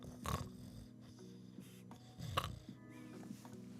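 A person imitates a snore with their voice, producing two rough throaty snorting bursts separated by a few seconds of soft, low breathy rumble.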